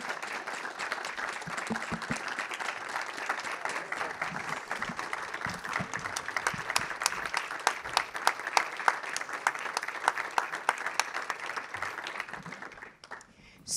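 A conference audience applauds steadily for about thirteen seconds, a dense even patter of many hands that stays fairly faint and distant before tapering off at the end.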